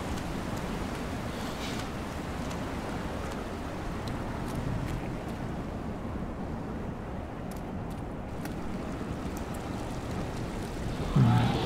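A waterfall in the video game Black Mesa gives off a steady, dense rushing roar that continues evenly without a break, with a slight swell at the very end.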